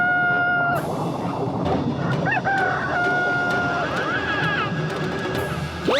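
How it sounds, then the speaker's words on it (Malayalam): A cartoon sea rooster crows loudly and near, a long rising-falling cock-a-doodle-doo with a second crowing call, over a busy background of underwater cartoon sound effects. "ഇതാണ് കടൽ കോഴി."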